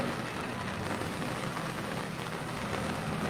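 Heavy rain pours down steadily during a landslide in Barak, a dense continuous hiss holding at an even level from start to finish with no voices.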